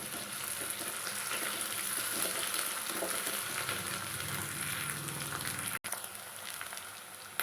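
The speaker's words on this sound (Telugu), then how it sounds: "ఒక టీ స్పూన్ అల్లం చిల్లిపాయ పేస్ట్ వేసుకుందాము అది పచ్చివాసన పోయిందాక ఫ్రై చేసుకుందాం" Onions frying with a teaspoon of ginger-garlic paste in a pan for a fish curry, giving a dense continuous sizzle close up with occasional stirring and one sharp click near the end.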